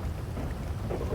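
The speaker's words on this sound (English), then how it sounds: "I have never done this in the storm. Like, I have never had it rain like this." Heavy rain pours steadily during a thunderstorm on Cayo Perico in the GTA Online video game, with a dense, constant hiss and low rumbling thunder throughout and no talking.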